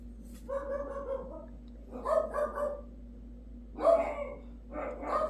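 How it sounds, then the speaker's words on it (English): Dogs bark in the background in several bursts of two or three barks, moderately faint and somewhat distant, separated by short pauses, over a low steady hum. "And we got dogs barking."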